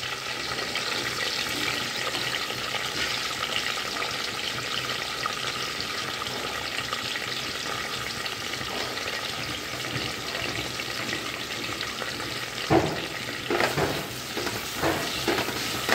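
Sliced large onions sizzle steadily in a pan for vegetable rice, a dense close frying hiss lasting throughout, with a few clanks of a stirring spoon near the end.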